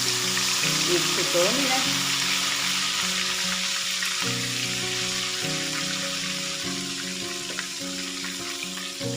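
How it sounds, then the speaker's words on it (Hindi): Ginger-garlic paste sizzles steadily in hot oil for chicken pulao, a constant close frying hiss with a few soft stirring scrapes and a brief spoken remark. "अब हम इसमें डालेंगे 1/2 टीस्पून लहसुन अदरक का पेस्ट और इसको हम लाइट गोल्डन होने तक इसको ऑयल में फ्राई कर लेंगे"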